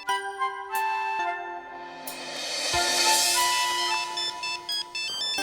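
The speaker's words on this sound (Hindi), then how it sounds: "ओह गॉड, विकी का फोन है।" A bright, melodic phone ringtone plays alone, repeating its tinkling electronic tune in steady phrases, clear and fairly loud.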